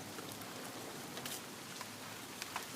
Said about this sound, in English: Okay, it's starting to rain a little harder.